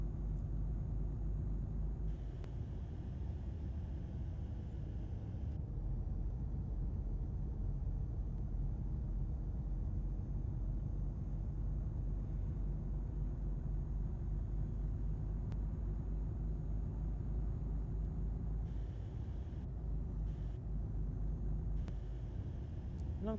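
Steady low engine rumble of a truck cruising along a highway in Euro Truck Simulator 2, constant and droning with no talking over it.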